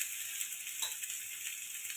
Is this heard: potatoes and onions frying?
yes